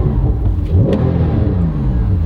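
A 2013 Porsche 911 Carrera S with PDK gearbox, rear-wheel drive and rear-mounted 3.8-litre flat-six, revving close and loud, pitch climbing and falling across several quick throttle blips with a raspy growl.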